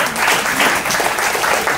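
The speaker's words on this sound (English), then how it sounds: "Sorry, give them a big round of applause." Audience applause at a birthday celebration, a steady wash of many hands clapping together for under two seconds, fairly loud and close.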